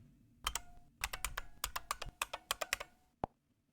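A password is typed on a computer keyboard as quick, crisp key clicks in short bursts, close and quiet, ending with a single firmer tap like the enter key.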